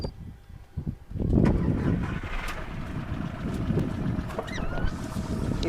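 A used Volkswagen Polo engine idles with a steady low rumble, mixed with wind-like noise close to the microphone and no clear talk.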